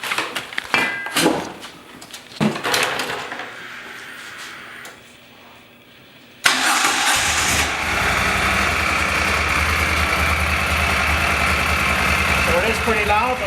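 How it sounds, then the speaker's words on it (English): A Moto Guzzi Stelvio motorcycle engine cranks and catches, then settles into a loud, steady idle that runs to the end, after someone talks nearby. "I'll start up the bike, and you'll be able to see what the difference is between the two lights"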